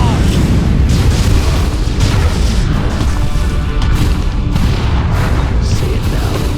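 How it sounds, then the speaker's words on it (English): Artillery barrage explosions in the strategy video game Dawn of War II, a dense, continuous roar of overlapping booms and crashes, loud and close with no gaps, while voices are heard. "Launch barrage! Quickly, brothers. Launch barrage!"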